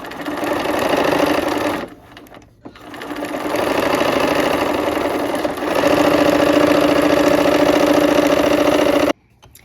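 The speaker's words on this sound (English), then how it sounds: "I'm going to go ahead and sew on that line, or if anything, just a little bit to the outside of the fabric here." A sewing machine stitches fabric along a heart-shaped line, running in loud, steady bursts of whirring needle motion, pausing briefly twice before running again and stopping near the end.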